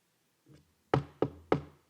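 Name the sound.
knocking on a door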